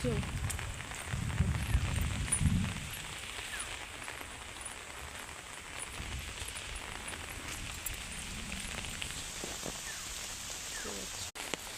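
Heavy rain falls on a forest department nursery in Jajpur town, a dense, even wash of noise throughout with a soft low rumble in the first few seconds and no talk.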